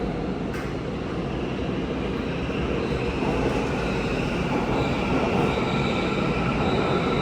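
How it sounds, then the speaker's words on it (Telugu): A subway train pulls into a station in Seoul with a loud, continuous rumble of wheels on rail and a faint high squeal. No voices are heard over it. "ఇక్కడ ఇప్పుడు ఇంకొక ట్రైన్ వస్తుంది"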